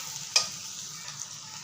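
Chicken, peas and potato cooking in a home kitchen pan, a steady low sizzle with a single sharp clink of a utensil near the start, no voices.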